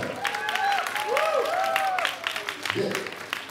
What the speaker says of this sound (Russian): Аплодируем нашим главным героям.